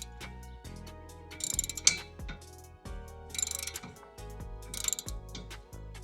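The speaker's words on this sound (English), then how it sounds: "socket wrench." Socket wrench ratcheting as it tightens the mounting of a Cravot CyberRack E2 Plus e-bike rack, with short bursts of rapid clicking repeated three times at close range, separated by brief pauses, with no talk.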